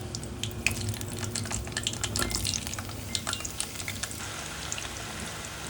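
Cooking oil sizzles steadily in a pan as food is sautéed for a Filipino beef mechado. Close-up crackling and spattering is mixed with scraping stirs and a brief burst of running tap water.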